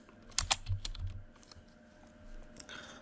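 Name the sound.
typing on a computer keyboard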